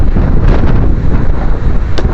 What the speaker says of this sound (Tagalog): narinig mo na natin ang malakas ng hangin dito